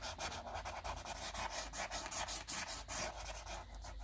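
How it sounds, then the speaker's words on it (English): White colored pencil rubbed back and forth over paper to blend layers, a dry scratchy rasp of continuous close strokes with steady, even loudness and no talking. "I want to blend that white up into here and walk you right into this"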